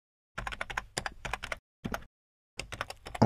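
Rapid typing of JavaScript code on a computer keyboard, bursts of close, crisp key clicks separated by short pauses and silent gaps.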